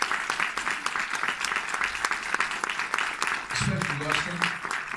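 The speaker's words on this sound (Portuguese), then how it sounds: "queria uma salva de palmas para este elenco" Applause from a film festival audience for the cast at a special screening, a steady dense patter of clapping throughout, with a voice speaking briefly near the end.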